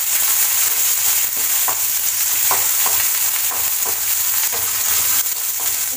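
Dried red chillies and garlic frying in a pan, a dense loud hiss of sizzling oil throughout, with light scraping strokes of a spatula recurring every second or so, close and without speech.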